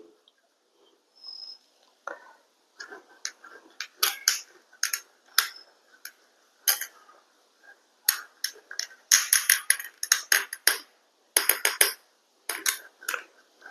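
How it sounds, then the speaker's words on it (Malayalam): A spoon stirring a salted bird's eye chilli mixture in a container, producing sparse then clustered clinking and scraping taps, close and fairly quiet with short pauses between bursts. "നല്ലപോലെ ഇളക്കി കൊടുക്കുക ഉപ്പും ഇതെല്ലാം കൂടി മിശ്രിതമാകാൻ വേണ്ടിയിട്ട്"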